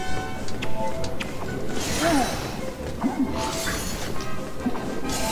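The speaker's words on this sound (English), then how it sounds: "I do like the multicoloured glass shards he throws, they look nice" Multicoloured glass shards smashing in the video game MediEvil Resurrection: bright crashing shatters with tinkling debris over a layered game soundscape, several distinct impacts spread across the moment.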